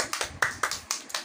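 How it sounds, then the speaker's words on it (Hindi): A few people clap for two children after a Pakistan general knowledge quiz, sparse sharp claps in a loose uneven rhythm, close by and moderately loud, lasting only about a second. "दोनों के लिए तालियां।"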